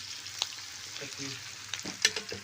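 Pithla, a gram flour dish, cooks in a pan over a wood fire, making a soft steady sizzle with a few stirring scrapes and clinks close by, without talk.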